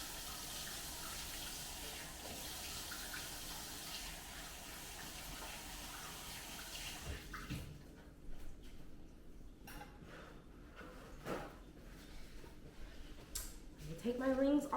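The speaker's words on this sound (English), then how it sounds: "So, let me wash my hands." Tap water runs steadily into a sink for several seconds as hands are washed in a home kitchen, then the flow stops and quieter handling noises follow.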